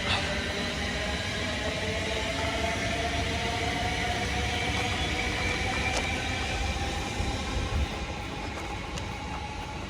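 A train bound for Euston running along a line, a steady broad rumble with a low drone and faint rail hiss, continuous and fairly loud throughout.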